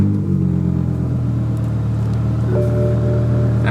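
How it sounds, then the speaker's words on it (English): A straight-piped BMW E60 M5 V10 starts up close by, settling into a loud, steady deep rumble with a brief rising whine near the end. "I'm going to start it again."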